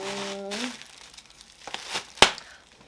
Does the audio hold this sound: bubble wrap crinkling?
yes